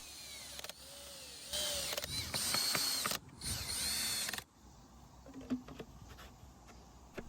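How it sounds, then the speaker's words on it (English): Screws are driven back into the plastic housing of a Ryobi leaf blower, giving close, quiet whirring bursts of a small driver with clicks and creaks between them. "All we need to do is put back all those fasteners, making sure not to apply too much torque and damage the plastic."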